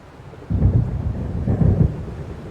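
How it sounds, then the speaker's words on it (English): Rumbling thunder from a storm rolling in over the water in the Alan Wake video game, with low booming surges that build and swell twice, rain and wind beneath, and no talk. "It seems there's a storm coming."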